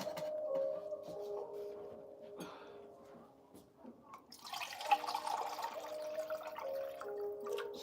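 Broth and water poured into a pot for tamale prep, a splashing pour that builds halfway through and runs on steadily, close up, with faint background tones and no talk.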